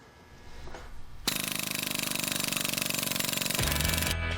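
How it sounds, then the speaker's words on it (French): A jackhammer roars to life after a quiet lead-in, hammering in a fast, steady, loud rhythm, its pitch dropping slightly near the end as the motor shifts. "le marteau-piqueur"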